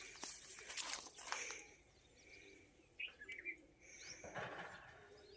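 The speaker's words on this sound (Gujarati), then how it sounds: "ચકલીઓ ને કબૂતર ને ઉડે." Sparrows and pigeons chirp outdoors at a farm, giving scattered short calls of mixed pitch at moderate distance, with light rustling and faint footsteps in between.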